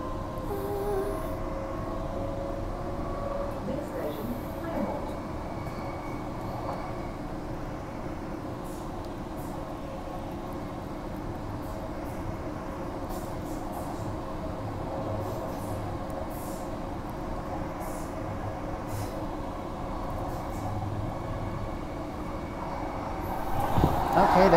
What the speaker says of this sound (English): there goes another Midland Line train.